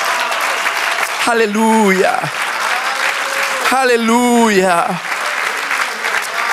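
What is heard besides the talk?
applause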